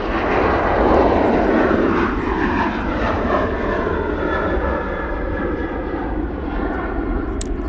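A large airliner climbs out from Manchester Airport, a loud, steady engine roar with a Doppler sweep through the first seconds, holding strong throughout with no voices.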